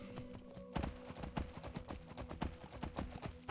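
Horse hooves clip-clop in a quick, even rhythm during riding in the Skyblivion video game, close and steady under a low droning game backdrop.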